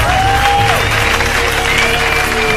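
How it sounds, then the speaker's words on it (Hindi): Applause at a stand-up comedy show: a steady wash of clapping from a crowd, fairly loud and continuous throughout, with a faint background tone running underneath. "लोग तालियों से उसकी हौसला अफजाई करते"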